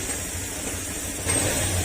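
A car engine runs steadily after an ECU replacement, a continuous close idle with a slight rise in level toward the end and no talk over it.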